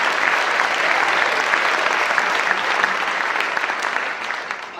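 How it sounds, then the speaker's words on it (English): A concert audience at a high school band holiday concert applauds its volunteer MCs, producing a dense, loud wash of clapping that holds steady and then tapers slightly near the end. "can we give a big round of applause for Anna Greenfield and Jonathan Boudreau"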